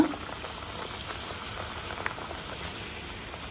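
Hot oil bubbling and crackling steadily in a pan, ready for frying puri, a constant fine fizzing texture with a few small pops and no voices.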